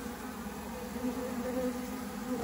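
Honeybees that have lost their queen buzz steadily and loudly, a dense, continuous drone close to the listener with no voices.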